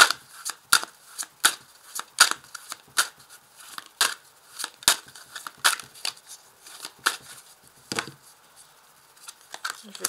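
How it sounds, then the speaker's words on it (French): Tarot cards riffled and drawn by hand, a quick run of crisp snapping flicks and shuffling rustles, close and fairly loud, with no talking. "Je vais tirer une carte."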